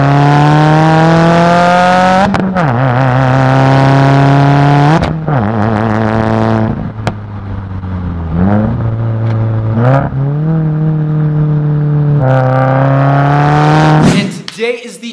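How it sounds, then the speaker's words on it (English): A Subaru WRX engine revving repeatedly through a stock J-pipe and Tomei catback exhaust, rising and falling in pitch with deep droning rumble, close by. "get some audio of the stock J-pipe with the Tomei catback exhaust, what it sounds like"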